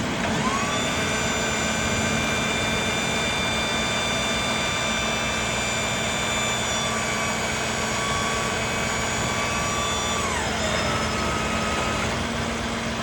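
Hydraulic rear gear deploying on MOW crane truck 1353, a steady mechanical hum with a sustained whine that drops in pitch near the end, continuous and fairly loud with no talking.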